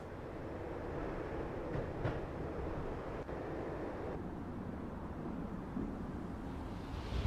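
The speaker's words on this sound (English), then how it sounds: "When the train he was riding slowed down, Gognitti made his move." A train in the Max Payne video game rumbling steadily as it slows down, a continuous low roar with faint rail clatter and brief metallic clicks, close and alone without talk.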